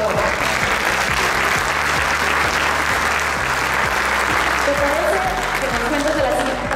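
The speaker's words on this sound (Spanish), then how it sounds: "Así que aplauso para todos ellos, por favor." A crowd at an industry awards ceremony applauds the winners, with loud, continuous clapping throughout, sustained tones underneath and a voice briefly audible near the end.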